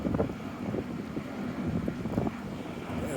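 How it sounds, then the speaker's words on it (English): Wind buffeting a camera microphone outdoors on a city street corner, a steady rough rumble with gusty swells throughout. "The wind wants to blow this thing all over the place"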